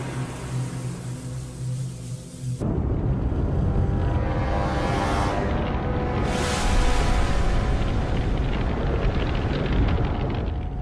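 A sudden loud roaring blast erupts after a quieter hum and keeps rumbling on as a dense, sustained wall of noise.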